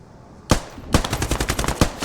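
Rifle fire in the video game Squad, a single loud shot followed after a short pause by a rapid burst of close automatic gunfire.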